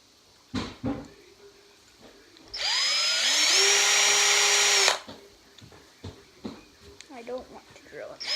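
Power drill boring into a car body during custom car work: one loud continuous whine lasting a couple of seconds, with short clicks and handling noises and brief talk before and after.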